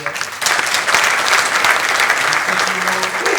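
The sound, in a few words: audience applause at a book launch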